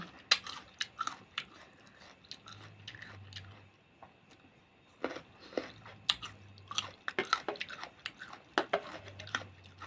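Crunchy green mango dipped in sweet fish sauce being bitten and chewed close up, with repeated crisp crunching bites in uneven bursts and brief quieter pauses between.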